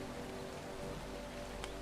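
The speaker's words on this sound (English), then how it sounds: "it's raining." Steady rain pours in the survival video game ARK, a dense, even hiss of drops at moderate level with no voices and one faint brief chirp near the end.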